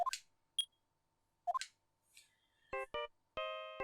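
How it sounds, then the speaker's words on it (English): Short chiming phone ringtone melody in the Phoenix Wright: Ace Attorney video game, a few quiet electronic notes following soft game beeps and blips. "It's my ringtone! It's my ringtone!"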